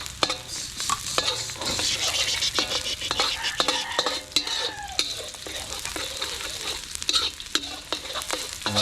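Garlic sautés in a hot pan with a continuous bright sizzle. Frequent close scraping and clinking strokes of a utensil stir it, with faint voices murmuring in the background.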